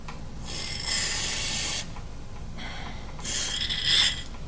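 Aerosol can of reloading case lube sprayed through a straw onto .223/5.56 rifle cases, two close hissing bursts, the first about a second long, then a pause and a second, slightly sputtering burst.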